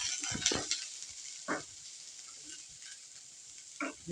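Soft sizzling of sliced chickpea curry ingredients frying lightly in a pan, with a few scraping stirs breaking in now and then.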